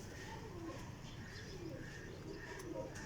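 Flying pigeons coo softly and repeatedly in a faint, distant, low murmur over a hushed background.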